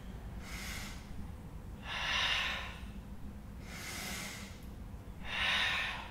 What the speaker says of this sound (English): I inhale to open and exhale to close.